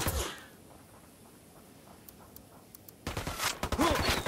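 Bursts of gunfire in the shooter Ghost Recon Wildlands start with a sharp crack, then a quiet stretch. A dense, loud volley of rapid shots follows near the end, with no voices.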